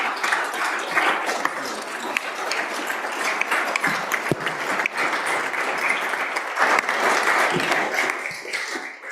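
Applause fills the Wyoming Senate chamber: dense, continuous clapping from many people, steady and loud throughout, with scattered sharper claps and no talk.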